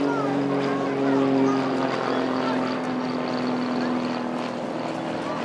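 A Royal Air Force Tutor light propeller aircraft performs an aerobatic display at the Eastbourne seaside airshow, its steady engine drone holding loud and continuous under a commentator's voice, swelling slightly as it pulls around.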